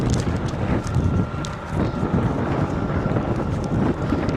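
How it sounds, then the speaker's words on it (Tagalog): Wind gusting outdoors on a cold day in Seward, Alaska, a steady broadband rush with low rumbling buffets against the microphone, continuous and fairly loud throughout with no talking. "Mahangin, malamig."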